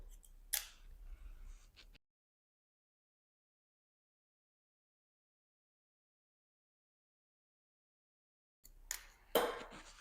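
Scissors snip hair during a haircut on a boy, with a few close, crisp cuts at the very start and again near the end, separated by a long stretch of silence.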